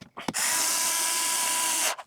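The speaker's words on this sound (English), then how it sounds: "We'll have to keep charging this drill as we go because it's not great." A cordless drill runs in a single steady whine for about a second and a half during a studio rebuild, preceded by a couple of short clicks and stopping abruptly.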